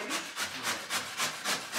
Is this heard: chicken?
no